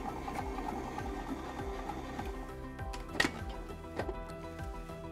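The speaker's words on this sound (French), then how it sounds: "Nous allons mettre notre batteur en première vitesse, le temps de sabler l'ensemble." Stand mixer running at first speed, blending almond powder and icing sugar into a sandy mix, a faint steady mechanical hum with a rhythmic repeating whir and an occasional soft clink.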